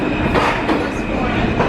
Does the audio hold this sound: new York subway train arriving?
yes